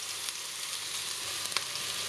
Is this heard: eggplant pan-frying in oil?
yes